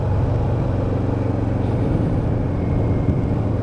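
A Yamaha Vmax motorcycle engine rumbles loud and close in a tunnel, a deep continuous drone holding steady over the whole moment without talk.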